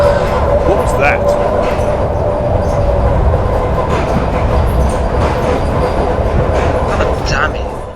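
Train ride in a video game on a night journey to East End, a steady loud rumble of wheels and carriage noise running throughout with a faint squeal and occasional clatter.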